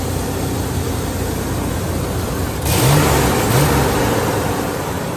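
A 1996 Ford Ranger XLT pickup truck engine idles with a steady rumble, then revs up twice midway before settling back to a running idle.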